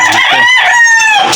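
A rooster crows loudly and close, a long drawn-out call with a rising, strained tone that carries through the whole moment, with no other sounds around it.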